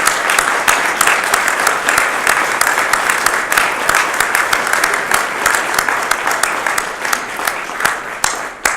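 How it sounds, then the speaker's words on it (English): Loud, sustained applause from families and friends at a police department badge pinning ceremony, many hands clapping with crisp individual claps standing out, tapering near the end. "join me in a round of applause for our families and friends"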